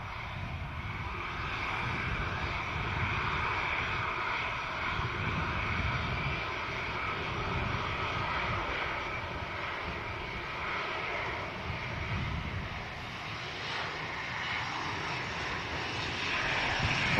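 A Hawker business jet departs Manchester Airport, its engine roar a broad, steady, fairly distant rumble that holds at an even level throughout with no voices over it.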